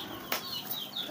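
A pigeon flaps its wings in one quick, close burst, with faint bird chirps in the background.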